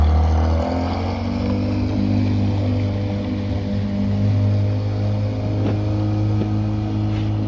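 A boat motor runs on a fishing trip, a loud, close, steady engine drone holding an even pitch throughout with no voices.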